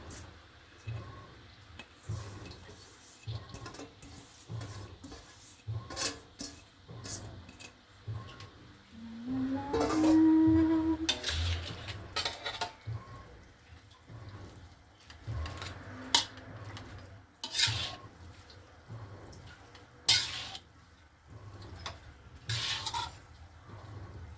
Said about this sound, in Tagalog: Pwede na natin ilagay itong ating bihon.